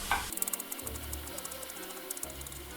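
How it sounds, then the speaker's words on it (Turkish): Onions frying in olive oil with chopped parsley while stuffed vine leaves are made, heard as a faint, steady sizzle with soft clinks and stirring scrapes. "Soğanlarımız kavruluyor görüyorsunuz arkadaşlar."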